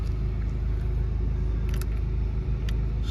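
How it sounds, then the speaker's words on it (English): A Jaguar XE 2.0 diesel saloon with automatic gearbox settles into a steady low idle rumble after starting, close and continuous, with a couple of faint clicks over the engine hum. "Just start the car up."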